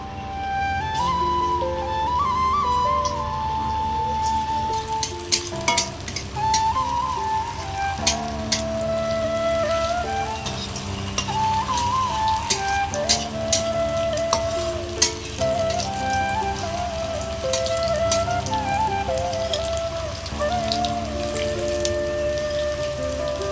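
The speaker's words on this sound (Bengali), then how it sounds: "এবার আমি তেলে ভেজে নেব। মিঠাগুলো এই তেলে দিয়ে দেব।" Soybean muitha dumplings deep-frying in hot oil: a steady, crackling sizzle with scattered pops, heard under background music throughout.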